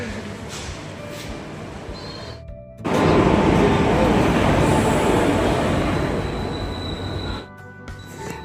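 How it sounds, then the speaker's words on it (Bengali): Coromandel Express at an Indian railway station bound for Chennai, a loud broadband rumble of a train passing or pulling in that swells after a quieter stretch of station ambience and holds steady for several seconds before easing. "আমরা যাচ্ছি এই করমণ্ডল এক্সপ্রেস করে যাব চেন্নাই"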